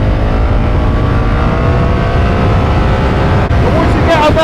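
A BMW R1300 GS motorcycle engine held at full throttle, a loud, steady, continuous roar that stays strong and close throughout with only a brief dip near the end.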